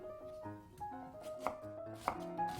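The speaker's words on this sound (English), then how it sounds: "Cut each potato into 2 or 3 pieces." Peeled potatoes are cut into pieces with a kitchen knife on a board, giving several quiet, separate chopping knocks, close by with no speech.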